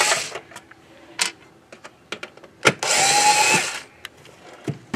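A small electric screwdriver removes the hard drive screws from an Xbox One S console. It gives one short, close whirring burst of about a second among scattered light clicks and taps of handling.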